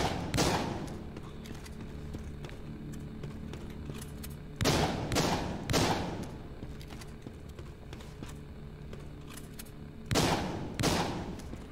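Several loud shotgun blasts in the game Walking Zombie 2, spaced irregularly in small clusters over a low ambient background.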